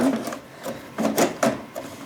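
A VHS cassette pushed into a VCR, a few close plastic clunks and mechanical rattles in short bursts; no one speaks.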